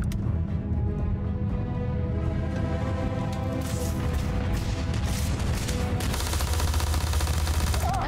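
Rapid gunfire in the space game Starfield, a dense stream of shots over a continuous low rumble of game music and ambience, loud and steady throughout with bursts thickening toward the end.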